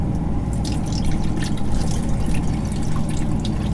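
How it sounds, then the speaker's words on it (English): Water drained from a can of green beans splashes and trickles steadily into a sink, a continuous pouring and dripping sound up close. "Drain the water off in the sink."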